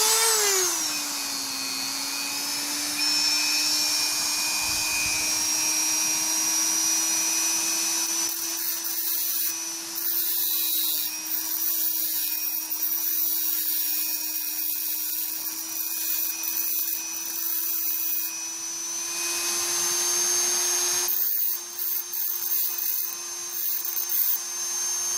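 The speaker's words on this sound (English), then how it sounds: "with it running, and the drum kind of angled out, and that'll make the wheel spin" A spinning sanding drum on a rotary tool grinds against a Hot Wheels die-cast car's wheel, giving a steady high-pitched motor whine that holds its pitch with slight grinding texture, close and continuous, with no talking.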